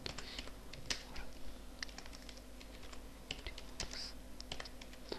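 Computer keyboard typed on in quick, uneven bursts of light clicks, close and fairly quiet over a faint steady hum, with no talking.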